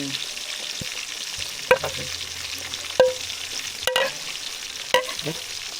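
Soup with malunggay leaves boiling in a pot, giving a steady bubbling simmer broken by a few sharp clinks and knocks of a utensil against the pot.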